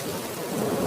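Steady cartoon rain with rumbling thunder falls over a rooftop, a dense, continuous hiss with a low roll underneath, loud and close with no talking.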